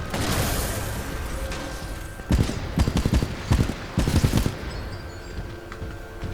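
Titanfall 2 mech firing repeated bursts of heavy gunfire, clustered loud volleys in the middle of the stretch over constant game background noise, with no talking.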